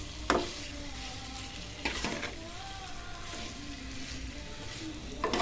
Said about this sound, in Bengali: মশলার সাথে ভালোভাবে মাখিয়ে একটু কষিয়ে নিচ্ছি